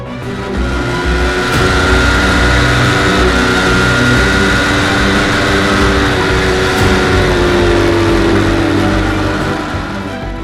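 A 2019 Aprilia RSV4 1100 Factory motorcycle engine roars loudly and steadily, its rising whine climbing smoothly through the revs in a sustained, close-up acceleration with strong wind and road noise.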